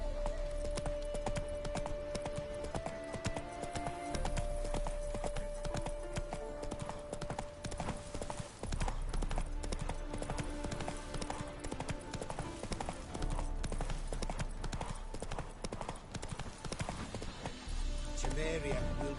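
Geralt's horse Roach trots in The Witcher 3 on PS5 with steady, rhythmic hoof clip-clops over a road, alongside game ambience, music and occasional speech.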